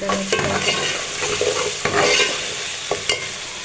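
Potatoes and green beans fry in a pan for dhaba-style aloo phaliyan, giving a close, loud sizzle broken by several sharp scrapes and clanks of a spatula as the food is stirred.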